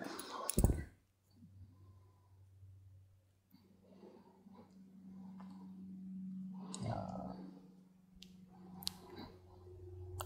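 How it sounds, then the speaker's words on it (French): A single crisp snip of scissors cutting crochet yarn, loud and close, then quiet handling noises and a low steady hum. "Je coupe le fil"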